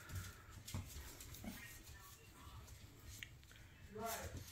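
American Bully puppies whimpering softly in a breeder's kennel, faint short whines and rustling mixed with someone talking nearby.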